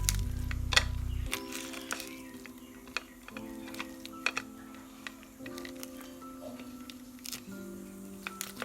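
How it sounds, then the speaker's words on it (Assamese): Fried fish heads are broken apart by hand for a banana flower curry, giving sparse, faint, sharp little cracks and ticks over a low steady hum. "এইখিনি ভাঙি দিম"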